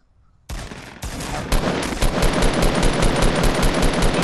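Rapid automatic gunfire in the video game Fortnite starts abruptly and builds into a loud, sustained burst of overlapping shots with no talk over it.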